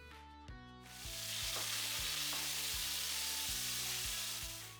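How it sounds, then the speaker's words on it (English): Shallots sauté in a pan with beef juices left from marinated steak, a steady loud sizzle that fills the clip while low tonal hums with soft regular bumps run underneath. "saute the shallots until they're soft and flavourful, soaking up those beefy juices from the steak"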